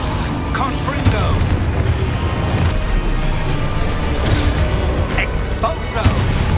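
Confringo fire-blasting spell cast in the video game Hogwarts Legacy: a steady, dense roar of game explosions and crashing combat effects, with sharp booming bursts near the six-second mark.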